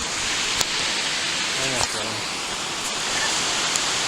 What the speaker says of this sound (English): This is the waterfall. The Adams Canyon waterfall.